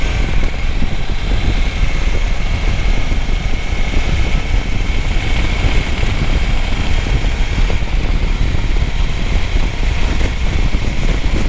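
A Royal Enfield Meteor 350 motorcycle is ridden on the road, its engine a constant loud rumble blended with heavy wind noise throughout.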